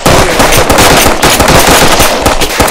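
Loud, dense automatic gunfire in the military shooter game Arma 3: rapid rattling bursts that fill the whole moment without a pause.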